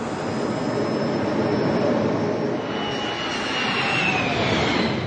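A 1968 Indy turbine jet engine race car gives a loud, continuous jet whine and roar, with a high tone sliding upward and a broad rushing hiss as the car passes near.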